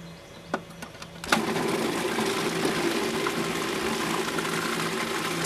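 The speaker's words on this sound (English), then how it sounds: "So we're going to puree this until it's nice and smooth." A blender starts up and purees ingredients for a homemade sauce with tequila, running loud and steady after a few soft clicks and setup sounds.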